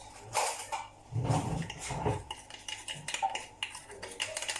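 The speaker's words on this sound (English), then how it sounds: "So I'm going to put in my icing sugar to my bowl. Just gotta pull and scrape this out." Powdered icing sugar scraped from a packet into a mixing bowl while gathering dry ingredients for soji laddoo, with soft scraping, light clinks of a utensil against the bowl and rustling close by, no talking.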